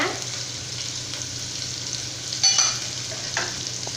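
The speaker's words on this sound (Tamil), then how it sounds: "கடுகு இப்போ பொரிஞ்சு வரட்டும்." Hot oil sizzling steadily, with a few quick crackling pops near the middle as mustard seeds splutter in the pan.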